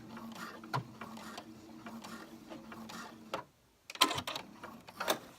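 A sewing machine sews over an edge on a pair of pants, giving a low, even mechanical whirr with faint ticking for about three seconds; a short pause follows, then sharper clicks and rustles.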